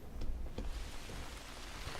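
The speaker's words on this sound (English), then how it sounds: "It's raining again." Rain falls in the hunting video game theHunter: Call of the Wild, a steady broadband hiss of continuous downpour at moderate level with scattered louder drop patters, no voices.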